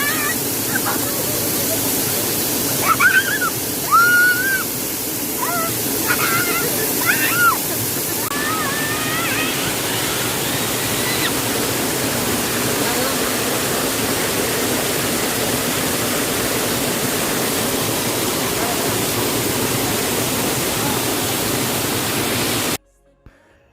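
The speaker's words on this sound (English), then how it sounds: "So all this water will just reach the place where we did fishing." Steady, broad rush of water pouring from an overflowing village pond runs loud and unbroken, with a few brief bird-like chirps early on before the flow continues alone until an abrupt stop.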